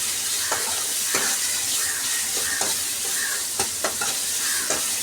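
Onions frying and being stirred in hot oil for an egg and drumstick curry: a steady, close, loud sizzle broken by repeated scraping and clinking strokes of the stirring spoon, with no talk.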